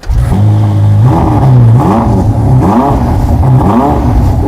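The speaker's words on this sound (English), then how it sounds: "how loud is this engine in stock form?" A Ferrari SF90's twin-turbo V8 engine, stock, revs loudly up close, its pitch climbing and dropping in repeated throttle blips over a constant roar.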